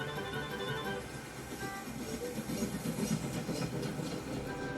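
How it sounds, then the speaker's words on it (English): Steam locomotive running on rails in a Thomas the Tank Engine remake, a continuous near rumble of wheels and clattering track noise with a faint whistling hiss on top. "He steamed gently back into Knapford Station."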